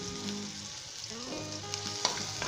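Ginger and garlic frying in a pan, a steady soft sizzle with faint stirring scrapes and a small clatter near the end, heard alone without talk.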